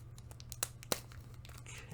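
Someone tears open a package by hand, with two sharp ripping bursts standing out over a steady low hum and soft crinkling of packaging, close and fairly quiet.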